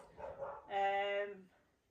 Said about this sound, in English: We'll just wait for the dogs to stop barking for a little while.